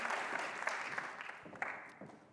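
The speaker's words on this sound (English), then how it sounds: "How about a round of applause for our great speakers?" Brief applause from a business conference audience after the speakers, a fairly close burst of clapping with a few sharper claps that tapers off quietly.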